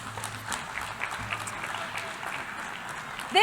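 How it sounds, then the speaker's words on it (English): A large audience of young diplomats at a United Nations World Football Day commemoration cheers and claps, a continuous crowd of applause with a sharp whoop rising at the end. "cheer again like you did at the beginning of this session"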